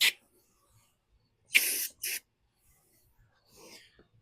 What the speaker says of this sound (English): I'm going to spray the carburetors with a little bit of go-go juice.